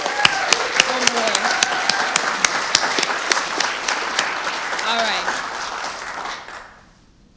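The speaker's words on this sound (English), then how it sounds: "let's give another round of applause for our students" A room full of people applauds students at a debate event held at a headquarters: loud, dense clapping that runs steadily, with a few brief words spoken over it before it dies away.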